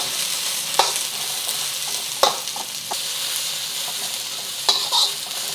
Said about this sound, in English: Adding my shallots. Stir fry this for about a minute or two